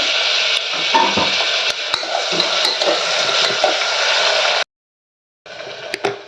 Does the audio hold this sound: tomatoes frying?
yes